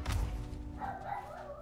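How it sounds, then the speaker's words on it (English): Dogs bark in Star Wars Jedi: Survivor gameplay, a short burst of deep, thudding barks up close, followed by a fainter, higher yelp. "Oh my god, those dogs."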